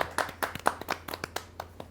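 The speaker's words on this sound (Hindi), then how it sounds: "आप जोरदार ताली से स्वागत करें।" Scattered hand claps from an audience at a Hindi poets' gathering welcome a poet from Aligarh, Uttar Pradesh, a sparse run of separate, fairly close claps rather than a full ovation.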